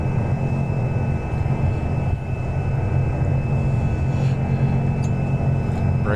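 A steady, loud airplane engine drone while taxiing in the X-Plane flight simulator, a continuous low rumble and hum with no break for several seconds.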